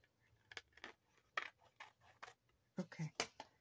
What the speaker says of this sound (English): Just kind of run your scissors along the edge. If you have anything like that, just trim it.